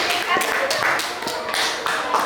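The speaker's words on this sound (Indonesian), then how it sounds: "tepuk tangan untuk kelompok 2." Applause breaks out for a student presentation group at a madrasah teacher-training session: a handful of scattered claps and taps under overlapping voices in a room.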